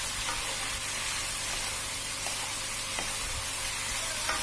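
Cabbage stir-frying in a hot pan, a loud continuous sizzle and hiss with scraping stir strokes, close and steady with no talking.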